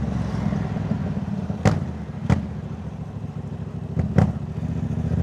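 A Yamaha MT-07 motorcycle with a Jeskap full exhaust idles close by with a steady, deep burbling rumble, broken by a few sharp, loud pops and crackles.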